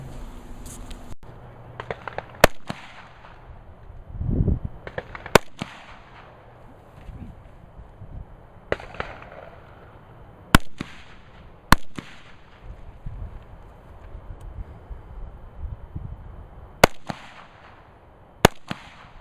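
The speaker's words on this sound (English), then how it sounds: "You'll be able to see exactly what type of muzzle blast we're dealing with here as of" Knights Armament SR-15 rifle fired outdoors: roughly eight sharp, loud muzzle blasts with crisp cracks, spaced irregularly a second or more apart, with quieter rustling and handling noise between shots.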